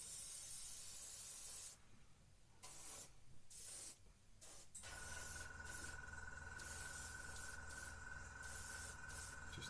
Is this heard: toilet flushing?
no